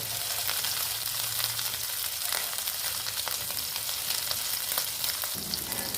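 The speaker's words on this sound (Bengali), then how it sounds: "আর একটু কড়া করে ভেজে নেব।" Dried loitta fish (Bombay duck shutki) frying crisp in oil in a pan, giving a continuous dense, hissing sizzle with light crackles, steady and close, with no voices.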